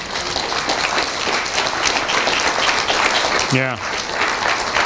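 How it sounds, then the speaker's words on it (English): Congregation clapping in a church service, dense steady applause throughout the whole stretch, with a brief spoken word and a short voiced sound near the end. "Let's give the Lord a clap offering."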